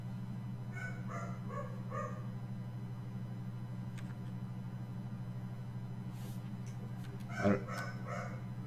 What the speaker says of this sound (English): I don't know if you guys can hear Scarlet barking